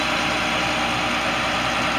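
A 2007 Ford F750 truck with a C7 Cat turbo diesel engine idles in a steady, even rumble, close and continuous with no speech.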